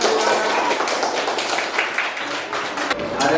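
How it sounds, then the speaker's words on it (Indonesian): Classroom applause for a student discussion group, a steady patter of many hands clapping for about three seconds, close and fairly loud. "Tepuk tangan dulu untuk kelompok"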